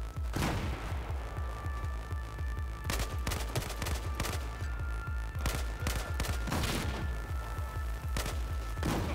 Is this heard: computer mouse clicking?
no